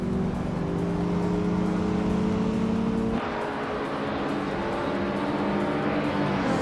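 A Seat Leon Cupra R and rival cars race in a video game, turbocharged engines droning steadily up close, the pitch dropping sharply at a gear shift partway through and then climbing again.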